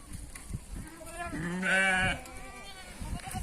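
Goats and sheep bleating on a Thai goat and sheep farm, one drawn-out wavering bleat in the middle over quiet farmyard background and soft knocks, fairly faint.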